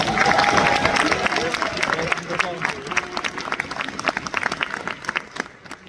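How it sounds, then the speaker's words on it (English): A crowd at a university event claps and cheers in sustained applause that gradually thins out, with a few voices audible over the clapping. "please give it a round of applause"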